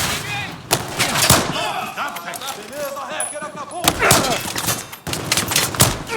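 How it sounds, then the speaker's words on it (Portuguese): Sniper rifle shots and other gunfire in Battlefield 4 come as sharp, loud cracks spread through the clip, with a player talking and shouting over some of them. "Tentar dar um balaço nele de sniper ali."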